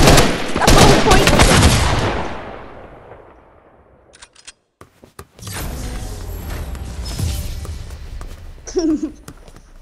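Guards shooting in Fortnite: a loud, dense burst of rapid gunfire up front, a short lull, then more scattered shots and game effects continuing, with a voice briefly in the mix.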